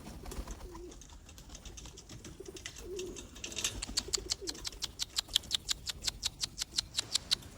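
Soft pigeon coos sound a few times early on, then a fast run of dry, rhythmic scratching taps builds and continues to the end.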